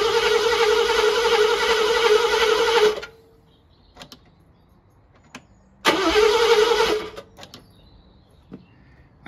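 A Mercedes SL R107 engine with its Bosch D-Jetronic fuel pump disconnected cranks without firing in two loud, close bursts of steady starter whirring, each about three seconds, separated by quiet with a few faint clicks.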